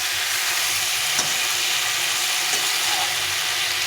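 Drumstick and bitter gourd pieces sauté in a hot pan with a steady, broad sizzle, and a couple of brief stirring knocks come through clearly with no speech.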